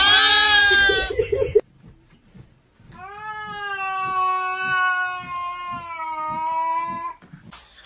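Two cats meow loudly and close, a short high cry at the start followed after a pause by one long drawn-out, wavering meow.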